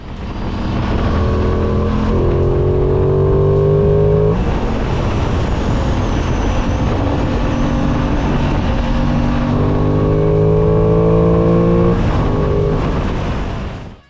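An Aprilia Tuono 660 motorcycle ridden hard at Mandalika circuit, its engine revving loud and close with rising pitch sweeps through successive gear changes, a brief dip between pulls, then another strong high-revving run.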